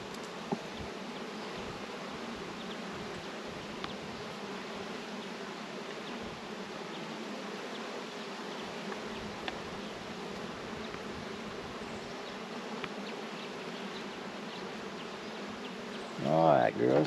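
Honey bees buzz steadily around an open hive during an inspection, a dense continuous hum filling the whole stretch, with a brief louder rustle near the end.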